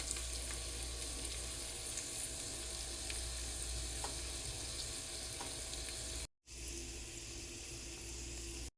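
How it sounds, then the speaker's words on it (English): Vegetables for egg fried rice frying in a pan give a loud, continuous sizzle with occasional pops, broken by one short gap before the hiss resumes at full strength. "Here I am frying my veggies."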